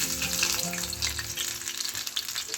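Pumpkin leaf fritter slipped into oil over a low gas flame, giving a steady, close crackling sizzle with dense spitting that holds throughout without any talk.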